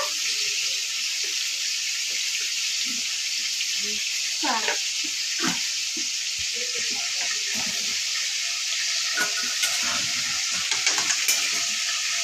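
Chicken fry with chili powder sizzles steadily in a pan, a constant hiss with scraping clicks of stirring layered over it, and a voice talks briefly.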